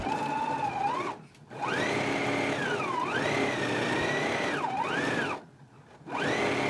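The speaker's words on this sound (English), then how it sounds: "we can go ahead and stitch them at a 5 8 of an inch seam allowance now" A sewing machine stitches the overarm seam of a jumpsuit, its motor whirring in three sustained runs that rise and dip in speed, separated by short stops, close and with no voices.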